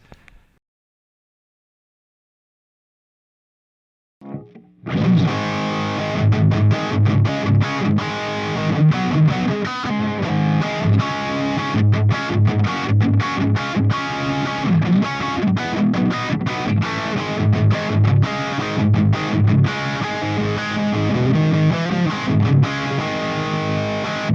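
After a few seconds of near silence, a heavily distorted electric guitar kicks in loudly through the basic distortion channel of a Peavey Prowler amp fitted with a Sheffield 1230 speaker, playing chunky riffs and chords continuously.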